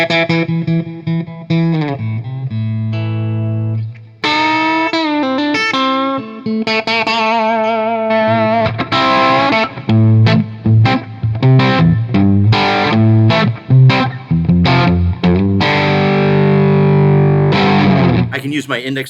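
A distorted electric guitar played finger style, with dense, sustained harmonic chords and single-note lead runs in a steady flow, loud and close, ending abruptly near the finish.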